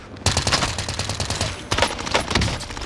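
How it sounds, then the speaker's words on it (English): Rapid automatic gunfire from Call of Duty Warzone, a loud close stream of shots in quick bursts, with a sharp renewed volley partway through, no talking over it. "Bro, she's firing at me."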